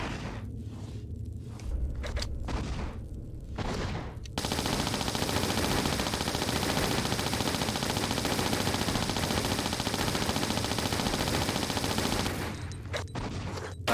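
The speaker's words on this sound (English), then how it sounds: "let's use some Uzi ammo" An Uzi submachine gun in a video game fires one long continuous burst lasting about eight seconds, loud and dense, with brief scattered shots and footsteps before and after.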